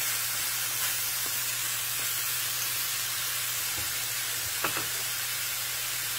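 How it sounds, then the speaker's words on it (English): Ground beef and onions fry over medium-high heat in a pan, a soft, steady sizzling hiss with a low hum beneath and a few faint clicks, fairly quiet, with no talking. "over in this pan, which is also on a medium-high heat, I'm going to start cooking my ground beef. And I'm going to add in my onions as well."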